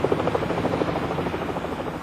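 A police helicopter's rotor chops rapidly and steadily, a loud continuous pulsing drone close overhead with no other sounds.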